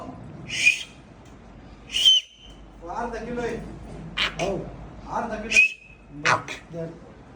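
A small whistle is blown in several short, shrill toots spread across the moment, close and loud, with people talking in between.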